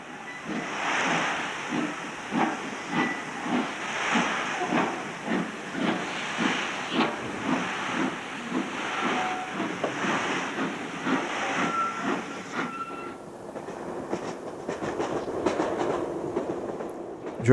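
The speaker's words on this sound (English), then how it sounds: "Saltley Birmingham-based Class 5 number 44981 struggles with its empty stock train on the sharp curves." Class 5 steam locomotive 44981 labouring with an empty stock train on sharp curves, loud rhythmic chuffing exhausts pulsing steadily about twice a second over hiss and rail noise, fading into clanking wheels near the end.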